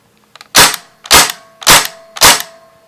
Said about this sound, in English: 30 bullets a second, lots of gas ejection, fastest gas blowback gun on the market.